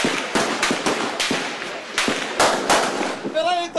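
Gunfire rings out during a police shootout with drug traffickers, a ragged string of sharp cracks spaced close together, some loud and some farther off, with a voice rising briefly at the end.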